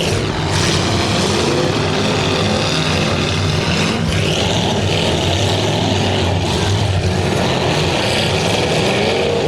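A car engine at a Bash for Cash event, with a loud, steady, close-up roar and rumble that continues throughout, broken briefly by a sharper knock or bang partway in.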